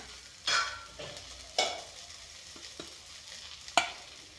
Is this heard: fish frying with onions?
yes